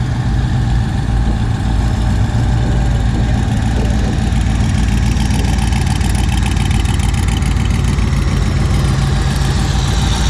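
A twin-turbocharged Volkswagen engine idles at the Hot Rod Power Tour at Kentucky Speedway, producing a loud, steady low rumble with continuous mechanical vibration and no pauses throughout.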